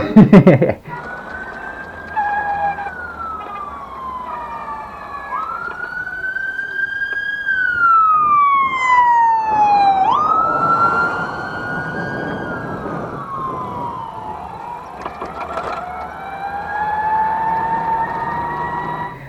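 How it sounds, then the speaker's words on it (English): A wailing siren sweeps up and down in pitch, loud and close, rising and falling repeatedly as an emergency vehicle passes amid traffic noise. "It was perfect timing because there was an ambulance coming."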